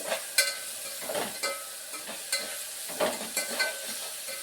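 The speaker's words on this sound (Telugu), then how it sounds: "కొంచెం ఉప్పు, కొంచెం పసుపు ఇవన్నీ కూడా యాడ్ చేసేసుకున్నాం అనుకోండి, ఇంకా మంచిగా ఫ్రై అవుతుంది" Mushrooms frying in a pan with salt and turmeric, with a continuous moderate sizzle broken by repeated scraping stirs at an irregular rhythm.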